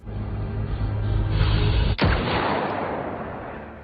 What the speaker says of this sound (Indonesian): Jen bergegas mengambil senjatanya untuk menembak Adrian dari jarak jauh.